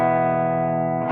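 An electric guitar played through a Marshall Plexi amp under heavy gain rings out as one sustained, distorted chord. It holds steady and loud, then fades as the strings are choked off at the end.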